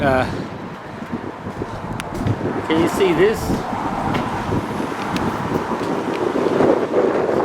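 Gusty wind buffets the microphone with low rumbling noise while a person speaks briefly over it.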